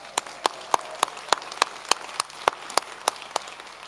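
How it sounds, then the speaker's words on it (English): A graduation audience at a BNU ceremony claps sparsely. Single claps ring out in a slow, fairly regular rhythm of about three per second, with a faint room murmur beneath and no cheering. "let's give them all a huge cheer and round of applause"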